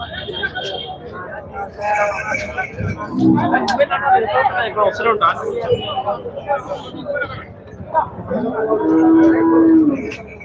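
Several buffalo low and moo amid a busy annual livestock fair in Narsing, with people chatting in the background; one long, deep moo stands out near the end.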